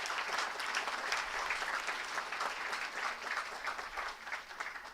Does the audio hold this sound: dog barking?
no